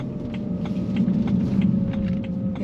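Light, irregular clicking rattles sound inside a moving BMW 335i E93 LCI convertible, close and faint over a steady low road rumble.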